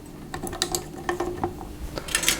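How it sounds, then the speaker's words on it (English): A whisk beats cocoa into a mixture for chocolate cake, starting slowly, with quick clicking, rattling strokes against the bowl, close and fairly loud, no talking. "I'm going to whisk that together until it's nice and thick"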